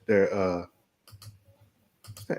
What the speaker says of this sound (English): No, that's Marcus typing